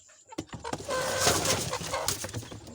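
A hen clucks several times in quick, uneven bursts close by, with light rustling and scratching around her.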